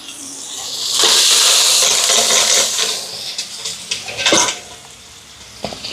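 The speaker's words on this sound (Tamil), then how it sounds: "தக்காளி பழம் சேர்க்குறேன் வதங்கட்டும்" Chopped tomatoes sautéing in a hot pan for a Sri Lankan chicken curry, a steady broad sizzle swelling after a second, with a few metallic clinks and stirring scrapes near the end.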